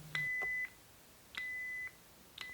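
Proffieboard lightsaber volume menu beeps, three clear electronic tones at regular intervals, each a sustained steady pitch with a short click at its start, quiet and alone.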